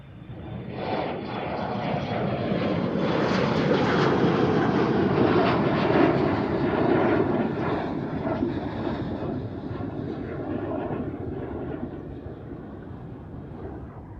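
A jet airliner roars past at Amsterdam Schiphol Airport, a loud, broad engine rush that swells quickly, holds strong, then slowly fades as the aircraft moves away, with no voices over it.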